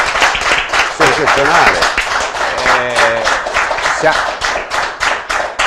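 Audience applause at a cyclocross event in Bolzano, a burst of clapping from a crowd under a man's loud, excited commentary that continues throughout.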